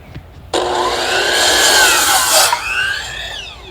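A saw cuts through wood during a shed pavilion build, a loud, sustained rasping stroke that starts abruptly and runs steadily for a couple of seconds before tapering off, close by.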